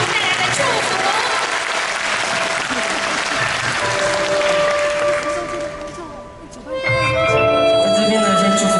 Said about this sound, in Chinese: 我们掌声来，再次欢迎蕙给我们带来的祝福。